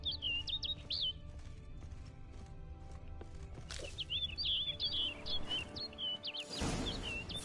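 A bird chirps and trills repeatedly in a video game, its bright, clear calls close and prominent over a steady low ambient hum, with soft footsteps and a burst of rustling noise near the end.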